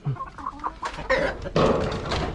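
Chickens in their coop cluck and murmur close by, several birds making short overlapping calls at moderate volume with no talking.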